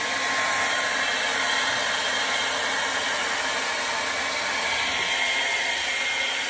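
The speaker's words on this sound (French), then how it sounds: "je tiens mon sèche-cheveux à l'envers, comme ça." Hair dryer held upside down blowing acrylic paint in a Dutch pour, a loud, steady, unbroken whoosh of airflow running close and alone throughout.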